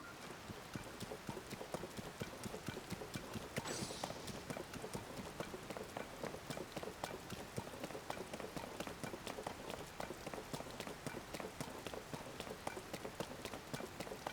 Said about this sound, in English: I wish it would stop raining.